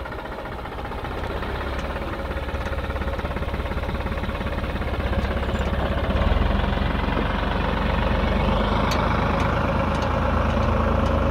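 A New Holland TT55B tractor chops autumn silage, its engine a loud, steady, close mechanical drone with a rapid knocking pulse that grows slightly stronger partway through.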